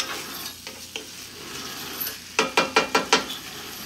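Steak and chicken fajita mixture with garlic and onions is stirred in a pan, soft sizzling giving way to a quick run of five or six rhythmic scraping strokes near the end, close and fairly loud, with no talk.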